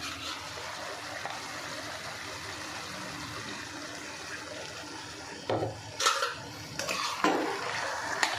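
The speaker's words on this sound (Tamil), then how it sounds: "போட்டு நல்லா மிக்ஸ் பண்ணிப்போம்." Quail pieces and masala powder are stirred in a hot pan, giving a steady scraping and sizzling, then a few louder clanks and scrapes of the spatula toward the end.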